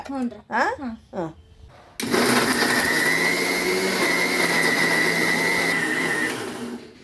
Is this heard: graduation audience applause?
no